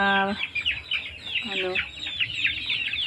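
Chickens clucking and chattering together nearby, a busy overlapping flock sound with a couple of louder calls standing out.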